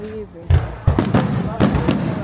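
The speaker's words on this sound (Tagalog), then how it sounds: "Ngayon lang ulit nakakita ng fireworks after ilang years." Fireworks burst on New Year's Eve, several loud, sharp pops and cracks at irregular intervals, close by, with people talking and cheering between and over the blasts.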